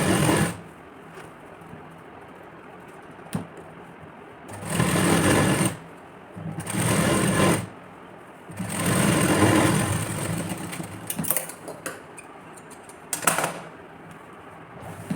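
A sewing machine stitches blouse fabric in several bursts of steady mechanical whirring, each a second or two long, separated by quiet pauses and a few light clicks, close by with no talking.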